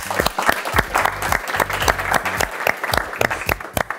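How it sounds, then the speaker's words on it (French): Loose, uneven clapping from a small group, individual hand claps standing out in a choppy rhythm, close and fairly loud with no one speaking. "Ok, on peut l'applaudir."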